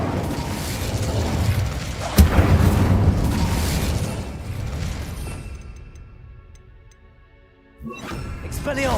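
The Incendio fire spell in Hogwarts Legacy erupts in a sudden loud booming blast with a roaring rumble that fades over several seconds before another burst starts.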